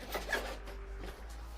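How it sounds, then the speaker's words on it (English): Short rasping pulls of a zipper on a handheld console carrying case, a couple of quick strokes close by, with quiet room tone underneath. "apologies for the zip sounds"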